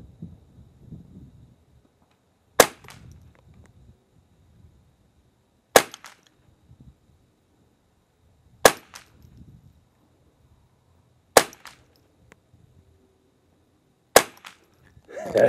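Five sharp, loud shots from a Remington .22 rifle fired at a target, spaced about three seconds apart, with quiet rustling between them and no talk.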